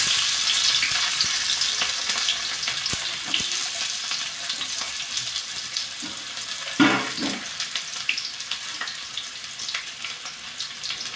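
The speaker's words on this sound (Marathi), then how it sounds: "तेल गरम झालेलं आहे. कांदा त्यात घालून घेऊ आपण." Chopped onion crackles and hisses in hot oil, a loud sizzle at first that settles into steady frying with a few sharper bursts and stirring noises, no voices.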